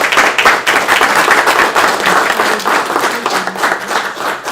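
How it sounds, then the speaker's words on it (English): Audience applause fills a room at a board meeting, steady dense clapping from many hands that holds loud for several seconds before easing slightly at the end. "we'll give you another round of applause"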